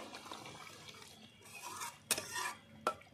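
Garam masala being stirred into a shrimp malai curry in a pan, with soft scraping and stirring, a low bubbling simmer underneath, and two sharp clinks of a utensil against the pan near the end.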